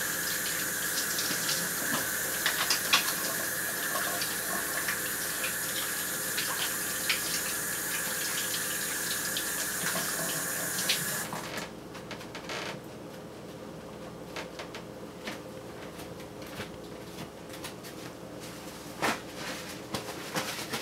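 Kitchen tap running steadily as hands are washed beneath it, a continuous splashing hiss that cuts off about halfway through, leaving quieter room sounds.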